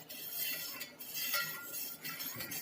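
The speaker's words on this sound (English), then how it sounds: "Now again I'll stir it thoroughly." A spoon stirs A2 desi cow milk in a vessel for curd, giving light metallic clinks and scraping strokes at close range, steady and fairly quiet with no talk.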